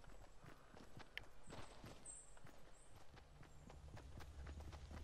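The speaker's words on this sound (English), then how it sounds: "These footsteps in these games are so loud." Footsteps in the Fortnite Battle Royale game, a steady series of close, crisp steps repeating through the whole stretch over a faint background hum, with no talking.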